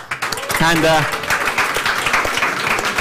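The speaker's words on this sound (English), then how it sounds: "let's give a warm applause to her" Warm audience applause at an e-Residency anniversary event for an Estonian Police and Border Guard Board speaker, many hands clapping steadily after a brief voice at the start.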